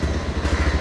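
A Bajaj Pulsar 220F motorcycle engine idles close by with a steady, low, throbbing putter and fast even pulses, loud and alone for under a second.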